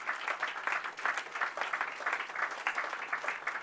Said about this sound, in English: I also want to give a big applause to the parents who have sacrificed so many things for the kids